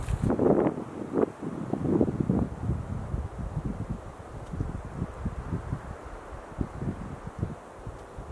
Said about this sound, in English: These wind gusts are pretty strong